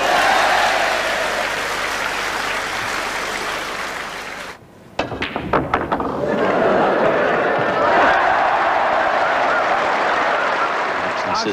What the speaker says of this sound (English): listen to that cheer from this vast audience